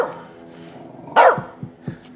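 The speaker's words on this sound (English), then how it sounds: "Keep that dog quiet." Dog barking inside the video game As Dusk Falls, one loud sharp bark followed by two softer woofs, close, over a quiet music bed.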